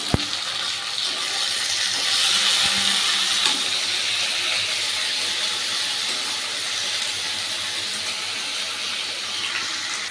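Chopped tomatoes drop into a hot pan of partly cooked onions while making a Bengali taro-stem and prawn curry, setting off a loud, steady sizzling hiss that holds for about ten seconds with no voices.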